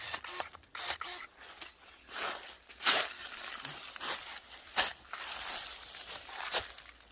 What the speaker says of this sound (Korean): 요런 장가지 잘라줍니다